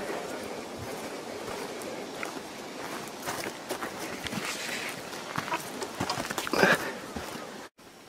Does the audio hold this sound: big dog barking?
no